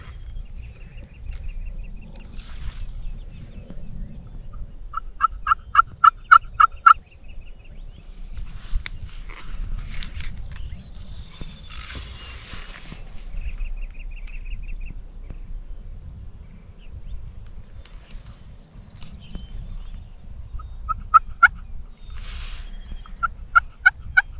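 A wild turkey hen calling in the woods during turkey season, with short bursts of rapid, sharp yelps heard at intervals over quiet background, plus faint rustling footsteps between calls.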